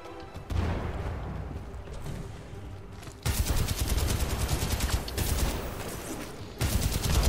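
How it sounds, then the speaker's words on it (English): A grenade in the shooter Titanfall 2 goes off with a sudden loud broadband blast, following a stretch of dense gunfire-like rattle, and another sharp burst comes near the end. The action is heavy and close, with no talking. "Nice little grenade. Takes them all out."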